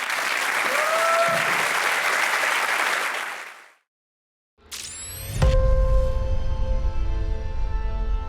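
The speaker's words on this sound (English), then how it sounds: "let's just give a big round of applause to Jenson Button" Audience applause for Jenson Button at the London unveiling of the Lotus Eletre, loud dense clapping for about three seconds that fades out, then music begins.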